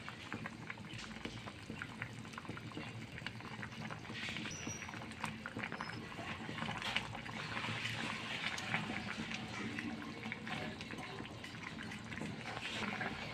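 Fresh pond tilapia go into a pot of simmered pumpkin, and the mix bubbles and sizzles in a steady, close, even hiss with no break.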